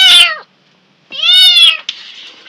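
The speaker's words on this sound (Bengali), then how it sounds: "আর যে বিলাই শব্দ শুনতেছেন এখানে আমাদের পালা বিড়াল আছে।" Pet cat meowing close by, two loud drawn-out meows separated by a short silence, followed by a fainter trailing call.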